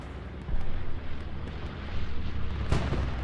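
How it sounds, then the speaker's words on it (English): A bombing run in the game Hell Let Loose brings a rolling series of deep booms and rumbling detonations with a sharp blast near the end, heavy and continuous. "Defensive bombing run."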